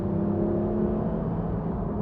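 Porsche 911 GT3 RS engine with the sports exhaust open, a steady, loud mechanical drone held at a constant pitch, close by with no talk.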